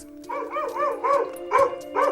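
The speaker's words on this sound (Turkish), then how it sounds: "Köpekler birçok farklı durumda havlarlar." A dog gives a quick series of about six short, high-pitched barks, close by and evenly spaced, with a whiny, yelping tone.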